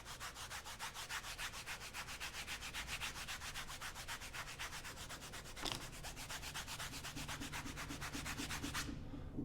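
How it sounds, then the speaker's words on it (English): Sharpening paste rubbed into a leather straight razor strop, a rapid steady back-and-forth rasping, evenly rhythmic and close, continuing without pause before stopping abruptly at the end. "I would probably want to rub it in and really try to make sure I even this out as much as possible"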